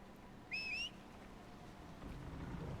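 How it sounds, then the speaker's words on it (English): A player character in the video game Dragon Age Inquisition whistles a short rising two-note call, clear and brief, over a faint ambient game background with no talk. "You know, you could have just said something instead of whistling to me like an animal."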